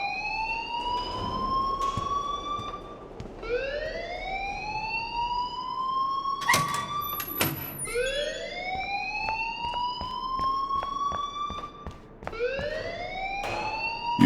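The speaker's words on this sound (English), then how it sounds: "please turn off that alarm since that's your job" A looping electronic alarm in the Life is Strange video game, its rising whoops repeating about every two to three seconds, loud and steady, with a couple of sharp bursts midway.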